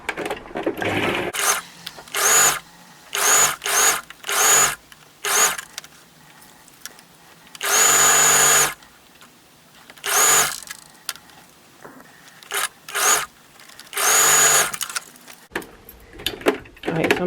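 A sewing machine stitches two pieces of fabric together while a skirt is refashioned into a dress. It runs in short, loud bursts of whirring motor separated by pauses, with a few longer runs, and a voice is heard faintly between some bursts.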